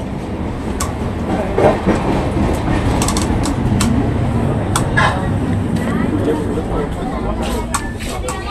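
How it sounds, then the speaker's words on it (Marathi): A 12163 Mumbai LTT–Chennai Express passenger train rolls along, heard loudly from inside a 3A coach as a continuous rumble with repeated sharp rail clicks and faint voices mixed in. "लवकर सुटली ट्रेन."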